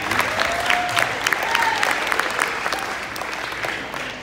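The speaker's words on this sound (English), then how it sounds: "Let's give them a round of applause" Sustained audience applause fills a girls basketball banquet hall, dense steady clapping with a few voices and whoops mixed in, fairly loud and holding for several seconds before easing slightly.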